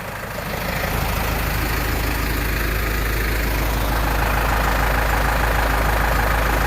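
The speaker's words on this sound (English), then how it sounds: "All right, guys, get in the tractor." A tractor engine idles steadily and loudly nearby after starting up, a low, even rumble that carries on alone with no talking.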